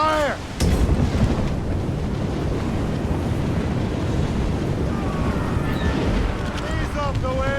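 Naval cannon fire in Assassin's Creed Rogue: a sharp, loud cannon blast opens, followed by a rolling, sustained rumble of gunfire and crashing sea spray under wind, with shouted voices and faint whistling near the end.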